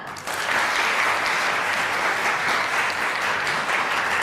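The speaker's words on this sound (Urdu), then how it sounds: "آپ کی بہت ساری تالیوں میں سمن." Enthusiastic applause from an audience starts abruptly and continues steadily, a dense wash of clapping.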